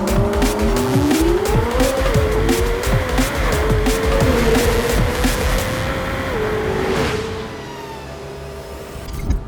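McLaren W1 hypercar launching hard in a drag race, engine note rising through gears with tire squeal, loud and close for about seven seconds before easing into a lower steady rumble as it pulls away.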